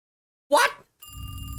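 A telephone rings in the horror driving game The Devil's Route: a short burst of noise cuts off, then after a brief gap a steady electronic ring starts and holds at moderate volume.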